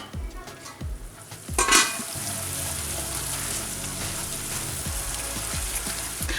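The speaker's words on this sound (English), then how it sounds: "I'm going to just cook the tomatoes as well for about 2-3 minutes." Chopped tomatoes cook under a lid in a pan for pav bhaji, giving a steady close sizzle and bubbling hiss with a few early knocks and a brief clatter as the pan is covered.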